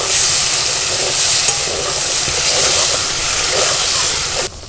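Spice paste of cashew, ginger, green chilli and tomato thinned with a little water, frying and being stirred in a pan for a pulao, a loud, steady close sizzle with a soft scraping churn throughout, cutting off abruptly at the end.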